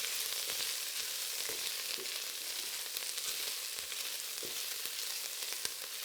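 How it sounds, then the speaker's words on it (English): Paprika and hot pepper flakes sizzle and roast in a pan while being stirred for a Mexican-style butternut squash soup, a continuous crackling fry with faint scraping stir sounds. "giving it a stir and letting the spices roast for a minute or two"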